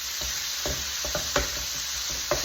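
Burek meat filling being mixed with two wooden spoons: soft scraping and pressing strokes in an irregular rhythm, with a few sharper dull knocks, close and fairly quiet over a steady background hiss, no voices.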